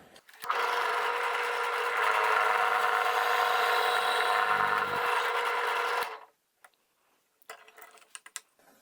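A power drill bores into the end of a wooden dowel rod, a loud steady whine of about six seconds that cuts off abruptly, then quiet with faint handling clicks.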